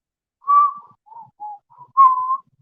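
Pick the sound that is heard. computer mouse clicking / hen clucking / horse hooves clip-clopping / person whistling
person whistling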